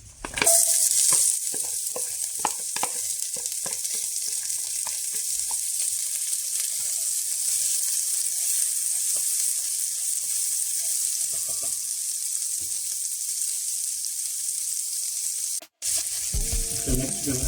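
Onions, garlic and ginger sizzle steadily in a hot pan as the base for curry beef, a continuous loud frying hiss with occasional stirring clatter, briefly cut near the end.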